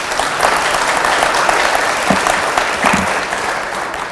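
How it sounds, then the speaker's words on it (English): Dense, steady applause fills a senior living dining room as residents clap for the dining services staff. The clapping stays loud and even for the whole stretch, with no voices above it. "we'll give them a thank you round of applause right now"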